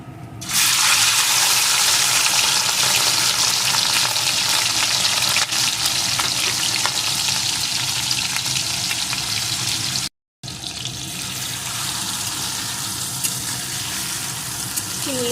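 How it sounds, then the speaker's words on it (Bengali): Salt-rubbed prawns frying in hot mustard oil in a wok: a loud, dense, continuous sizzle that bursts in at once and holds steady, broken by a brief gap before resuming just as strongly. "এখন আমি ওই লবণ মাখানো চিংড়ি মাছগুলোকে প্রথমে এর ভিতরে দিয়ে একটু ভেজে নেব"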